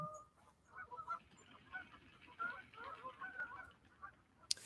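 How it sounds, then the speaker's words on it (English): A flock of about 30 geese takes off together outdoors, with scattered honks and calls rising over a soft rush of wings and background noise, fairly distant and moderate in level. "like 30 geese just took off at once"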